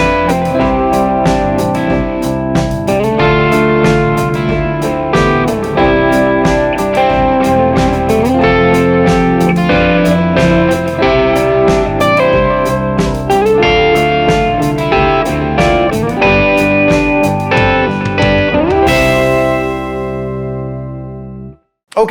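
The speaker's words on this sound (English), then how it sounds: "Let's take a listen first to the full mix with all the guitars, me performing it through the Rev guitar amp tones." Full band mix of heavy distorted guitars played through Revv G20 amp tones, with programmed Superior Drummer 3 drums and bass, loud and dense throughout before ringing out into a fading final chord.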